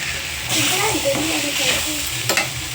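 Sago upma cooks in a pan while a spoon stirs and scrapes through it, giving soft sizzling and scraping strokes close by with a brief clatter near the end and a faint voice in the background.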